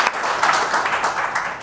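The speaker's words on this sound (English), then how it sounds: "clap it up for that." An audience at an arts and poetry performance claps and cheers in a burst of applause, dense and lively, filling the short moment.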